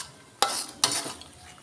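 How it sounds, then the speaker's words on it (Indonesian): A spoon scrapes and stirs potato and liver sambal goreng in a wok, two short distinct scraping strokes close up against a quiet background. "Kita aduk kayak bikin jenang terembelek itu loh"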